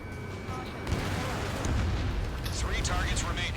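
A missile launch in an Ace Combat flight game roars as a sustained rushing blast over jet engine noise, loud and continuous, with a voice talking over it.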